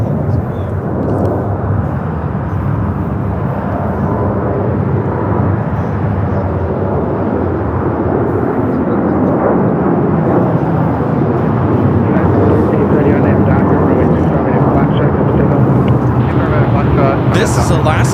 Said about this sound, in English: This is Alaska Airlines 1360 taking off to Los Cabos on the 737-900ER.